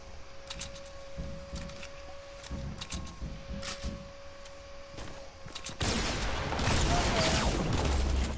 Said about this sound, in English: Yo, why are they shooting me?